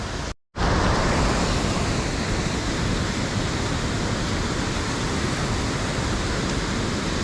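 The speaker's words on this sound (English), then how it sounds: "Goodbye, waterfall." A waterfall roars in a loud, dense, continuous rush close by, broken only by a brief cut near the start.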